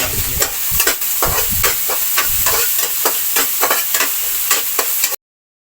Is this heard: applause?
no